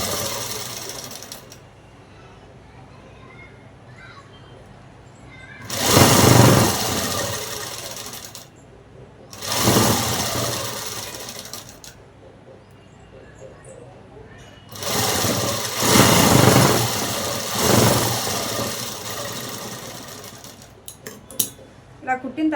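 A sewing machine stitches a dress in three loud bursts of rapid mechanical running, separated by quieter pauses filled with low handling noise.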